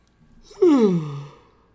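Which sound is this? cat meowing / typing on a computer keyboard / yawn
yawn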